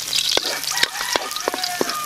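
Garlic sautés in oil left over from frying bananas, making a close, crackling sizzle broken by a few sharp pops and a faint high tone.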